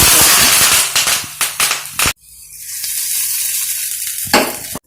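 Mustard seeds and curry leaves, with dried red chillies, hit hot oil in a tempering for Tamil potato balls, giving loud crackling pops and a bright sizzle that fades to a steady hiss before a final burst of spluttering.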